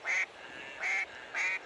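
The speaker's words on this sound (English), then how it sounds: "Oh, there's a duck." A duck in the hunting game Hunting Simulator 2 lets out three loud, nasal quacks, evenly spaced over under two seconds, over a quiet background.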